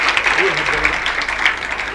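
Audience applause rings out at a Haryanvi comedy poetry show, a dense, steady wash of clapping that lasts throughout while a voice speaks over it.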